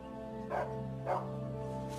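A domestic dog barks twice, two short mid-pitched woofs about half a second apart over a steady humming background, with no voices.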